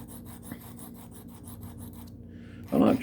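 A pocket knife is drawn back and forth across a sharpener in quick, regular raspy strokes about four per second, close up, ending with a louder scraping rub.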